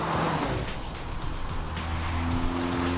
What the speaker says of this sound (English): There's an urgency to the exhaust note's rasp that crescendos as the revs rise